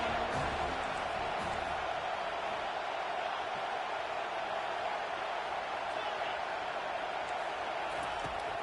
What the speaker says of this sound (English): Defense getting a boost from this crowd on 3rd and long.